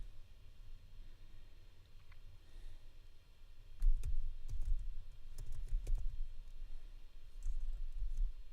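Clicky keystrokes on a laptop keyboard, faint and close, with a burst of quick irregular taps in the middle over a low room hum.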